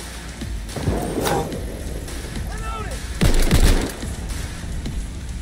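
Bursts of gunfire in the video game Cyberpunk 2077, a few loud shots and a sharper volley of rapid fire mixed with game effects, while someone speaks over it.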